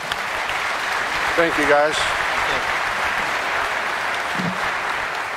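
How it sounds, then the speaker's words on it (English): A crowd at a resiliency summit in Trenton, New Jersey, applauds in a full, even burst of clapping, while someone briefly speaks a few words of thanks over it partway through. "Let's give them a round of applause."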